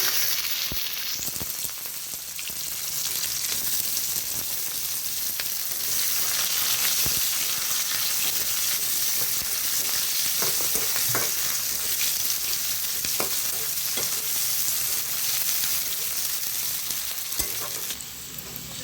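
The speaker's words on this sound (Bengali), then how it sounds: "পেঁয়াজগুলো ভাজা হয়ে গেছে" Onions fry in hot oil with a bay leaf, a loud, continuous sizzle and crackle with occasional scraping stirs of a spatula in the pan, close up, with no voices.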